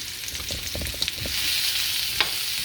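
Sweet potatoes tossed in oil in a hot wok: scattered clatter and scraping of the pieces over a continuous frying hiss, with a sharp spoon tap near the end.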